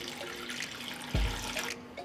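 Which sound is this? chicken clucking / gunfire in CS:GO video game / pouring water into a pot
pouring water into a pot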